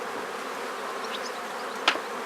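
Honeybees buzz steadily around a hive during nest expansion with a building box, a continuous soft hum with one brief louder buzz as a bee passes close.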